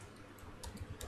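A few scattered keystrokes on a computer keyboard, light clicks spread over a second against a quiet room background.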